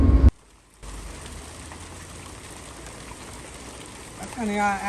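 Rain falls steadily as a continuous broadband hiss, preceded by a short loud burst and joined by a voice talking near the end.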